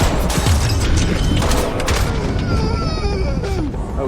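Gunshots in a tense film scene where a car's tyre is shot out, loud booming blasts and crashes over a dense, noisy action soundtrack with some voices mixed in.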